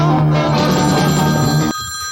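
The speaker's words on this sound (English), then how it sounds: "A phone is ringing at the news of the world." An old telephone bell rings loudly and close by for nearly two seconds before cutting off abruptly, leaving a faint murmur behind. The scene is set in a London newspaper office in 1967.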